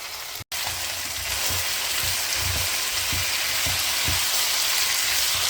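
Tricolour bell peppers and cabbage fry over a high flame, making a loud, steady, rain-like sizzle with soft periodic stirring thumps underneath, heard up close with no voices.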